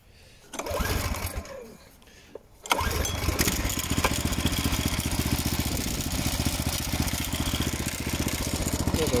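An Atco Club 20R petrol lawn mower engine pulls and then starts, settling into a steady, loud, close rhythmic running chug.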